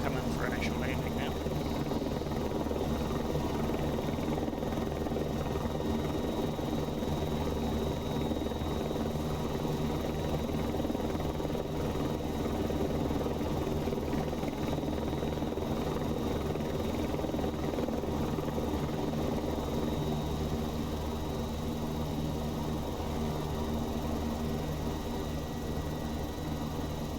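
An AS350 helicopter flying in the X-Plane 11 simulator gives a loud, steady rotor and turbine drone that runs unbroken and evenly for the whole stretch.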